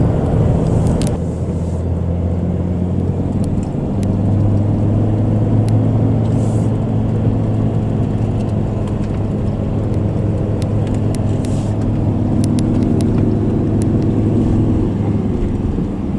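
A car climbs up and over Takaka Hill on a wet day, winding through twists and bends into the clouds, its engine and road noise a loud, steady low rumble from inside the vehicle with no talking.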